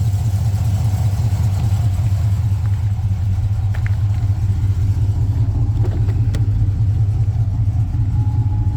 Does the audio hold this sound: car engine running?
yes